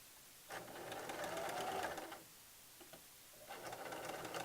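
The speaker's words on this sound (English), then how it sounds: "She's doing a back stitch to reinforce, which is very important." A sewing machine runs a back stitch on a dress in two bursts of rapid, even mechanical whirring separated by a brief pause, close and fairly quiet.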